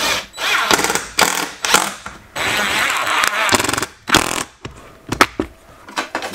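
A cordless screw gun drives screws into the plastic housing of an RV light fixture, sounding as repeated close, loud bursts of whirring with short pauses between, the bursts growing shorter and choppier toward the end.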